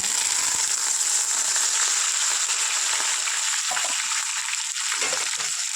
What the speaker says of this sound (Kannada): ಇವಾಗ ಅದೇ ಎಣ್ಣೆಲೇ ಕರಿಬೇವು ಸೊಪ್ಪನ್ನು ಫ್ರೈ ಮಾಡ್ಕೊಂಡ್ಬಿಡೋಣ